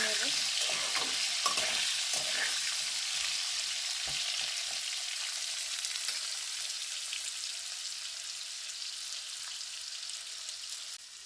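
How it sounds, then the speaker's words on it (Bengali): Potatoes fry in a pan with a steady hiss and sizzle while being stirred, scraping and clinking at the start before the frying noise settles into an even crackle. "আলুগুলো একটু নাড়াচাড়া করে নেব।"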